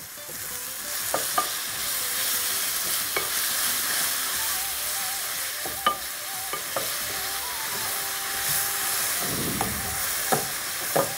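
Sliced onions fry in a pan toward golden brown for a mutton curry, a steady near sizzle punctuated by frequent clinks and scrapes of stirring, with no voices.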